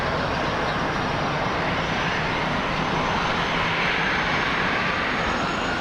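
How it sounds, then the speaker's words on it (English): A China Eastern Airlines Boeing 777-300ER in special livery landing at Los Angeles International Airport gives a dense, loud, unbroken jet roar, close and steady throughout with nothing else over it. "Special livery coming in. China Eastern Airlines, 10 hours, 12 minutes of flight time for this one. Big 777-300ER."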